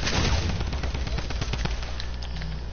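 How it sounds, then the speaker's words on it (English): Rapid gunfire in the Fortnite video game, a dense burst of loud automatic shots and overlapping cracks filling the whole moment, with no talking over it. "Bro, who's shooting me?"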